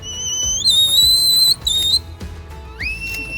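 A series of sharp, high shepherd's whistle blasts commanding border collies herding sheep in Ireland, some rising and held steady, others falling, shrill over a low background rumble.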